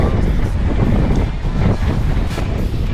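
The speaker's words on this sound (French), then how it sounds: "Là a priori il y a du vent." Strong wind roars steadily over a sailing boat out on the water, a loud buffeting gust noise that stays constant throughout with no clear talk.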